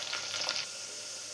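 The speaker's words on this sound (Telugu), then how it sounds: "ఇప్పుడు ఇదంతా మనం బాగా వేపుకోవాలి." Onions, tempering spices and curry leaves fry in hot oil in a pan for a Telugu broad bean curry, giving a steady close hiss of sizzling that is a little brighter for the first half second, with no talking.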